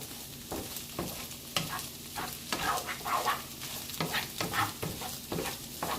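Chorizo breakfast burrito filling sizzles in a frying pan while a utensil stirs it, giving repeated scraping strokes over a continuous crackling fry at close range.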